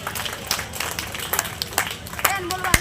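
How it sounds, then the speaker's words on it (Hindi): Applause for martyrs at a village memorial gathering, scattered, uneven clapping from a crowd with irregular sharp hand claps rather than a dense roar, mixed with background murmur and voices. "इन वीर शहीदों के लिए एक बार जोरदार ताली हो जाना चाहिए।"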